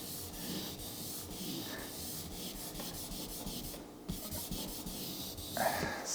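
Paint on a 2018 Ford Raptor is sanded and polished, producing a steady, close, abrasive rubbing hiss with small shifts in pressure and a brief pause near the middle.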